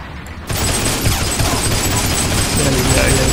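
Heroes and Generals battle gunfire, a dense, loud fusillade of rapid shots erupting abruptly and continuing without a break, with a voice speaking beneath the noise.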